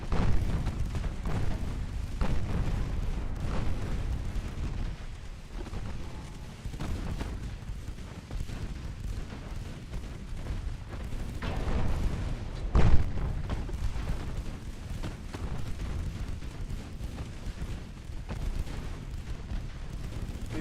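Warship secondary guns fire on transports in the naval game Ultimate Admiral Dreadnoughts, a long stretch of repeated booming shots and rumbling blasts, fairly loud and steady, with one sharper, louder report near the middle.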